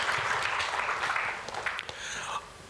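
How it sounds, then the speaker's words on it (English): An audience at a panel discussion applauds a laboratory setup with a steady wash of clapping that thins and softens toward the end. "I think he deserves a round of applause for that."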